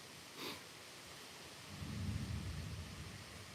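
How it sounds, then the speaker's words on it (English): Thunder from an approaching storm rolls in from the distance as a low, swelling rumble heard from a porch. It builds and lingers for a couple of seconds over a quiet background, with a faint thud just before it and no voices. "Thundering pretty good."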